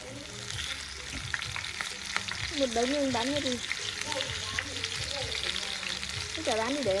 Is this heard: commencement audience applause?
no